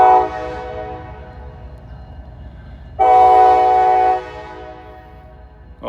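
A freight train running north rumbles steadily by at dusk, with a blaring horn blast cutting in for over a second partway through, then the low rolling noise continues.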